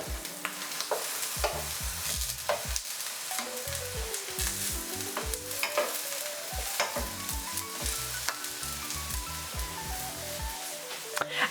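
Aubergine slices fry in a hot pan for a veggie lasagna, giving a steady close sizzle throughout with scraping and stirring clatters on top and a tonal whine drifting across the background.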